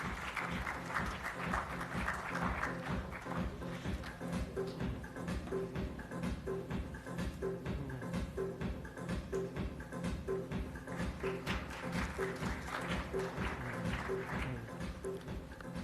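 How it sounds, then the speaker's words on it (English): Sustained audience applause at the CLFMA of India 63rd National Symposium, a steady dense clapping filling the hall for the whole stretch, with a faint rhythmic tapping pattern underneath. "A big round of applause for Mr. Hemant."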